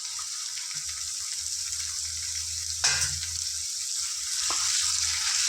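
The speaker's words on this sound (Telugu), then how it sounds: "ఇందులో చక్కగా క్లీన్ చేసి పెట్టుకున్న వన్ కేజీ చికెన్ ఇందులో వేసుకుందాం" One kilogram of cleaned chicken for a gongura chicken curry goes into a pan and fries with a soft, steady sizzle, marked by a single thump midway and the hiss swelling slightly toward the end.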